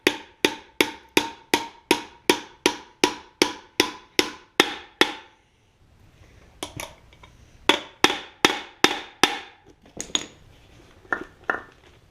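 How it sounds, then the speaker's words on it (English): A hammer taps a bearing race into a 1966 Ford Galaxie 500 in a fast, even series of sharp ringing strikes, pauses, then resumes with another run and a few scattered heavier blows. "you can tap them in with the hammer"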